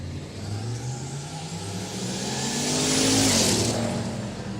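Turbo V8 commercial vehicle revving hard during drag racing at a quick street day, a loud rising engine roar that swells as it passes and then fades slightly.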